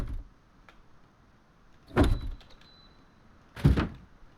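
A garage door being placed in Rust: two distinct heavy mechanical thunks with a sliding rattle, well spaced apart over a quiet background, the second slightly louder.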